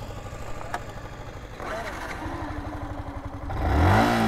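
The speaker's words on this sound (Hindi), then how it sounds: "स्टार्ट हो गई बाइक" A motorcycle engine cranks and then fires up, the revving rising louder near the end after a stretch of sputtering, with people talking over it outdoors.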